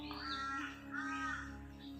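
A crow caws twice, distinct and fairly near, at a Thai shrine, with a steady background hum underneath.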